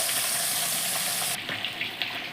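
Katla fish fries in hot oil with a dense, steady hiss of sizzling that drops in brightness halfway through, leaving a softer crackle with a few small pops.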